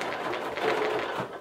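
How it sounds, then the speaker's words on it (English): A sewing machine stitches in the ditch along a quilt seam, a fast, even mechanical whir of needle strokes up close, brief and with no talk. "stitching in the ditch so you can't really see it, along the area of that giraffe"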